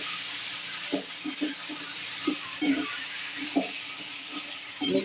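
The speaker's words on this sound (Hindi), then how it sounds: "मिक्स कर लेंगे अच्छे से।" A spoon stirring chicken masala with turmeric and salt in a pan, soft scraping strokes in an irregular rhythm over a constant sizzling hiss, close and fairly quiet.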